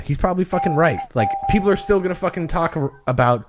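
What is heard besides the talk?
doorbell ringing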